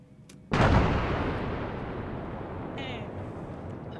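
After a moment of quiet, a single loud explosion booms suddenly in the military video game Arma 3, then its rumble slowly fades over several seconds.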